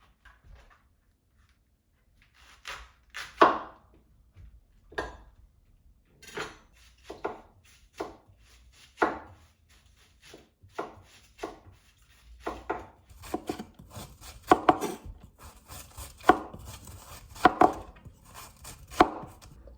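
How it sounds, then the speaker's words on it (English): A knife chops through cabbage on a board, first in slow, spaced single cuts, then in quicker, irregular strokes with faint scraping and clatter between them, close and fairly loud. "Now time to cut the cabbage."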